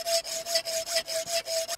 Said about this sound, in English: So I think we might have to cut a little bit off the dowel.